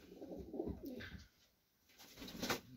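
Domestic pigeons coo softly at close range, low rolling calls with a short lull before another coo, faint and alone.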